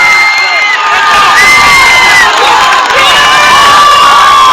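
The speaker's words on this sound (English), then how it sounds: "And the Taft crowd starts to come to life." Taft crowd cheering and shouting at a 16-inch softball city championship game in a Chicago park, a steady loud roar of many voices with whoops and high children's shouts throughout.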